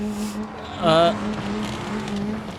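Car spinning out in a BeamNG Drive race: a short, loud, wavering tire screech about a second in, over a steady engine hum, with a voice speaking around it.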